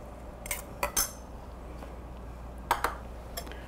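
A spoon stirs pork bulgogi seasoning sauce made with Sempio domestic-soybean soy sauce in a bowl, giving a handful of sharp, close clinks in two short bursts over a quiet background.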